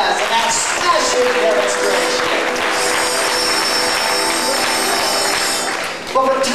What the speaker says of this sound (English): How about another round of applause for Gomez and that smashing